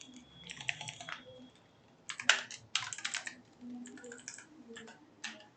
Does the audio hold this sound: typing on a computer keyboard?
yes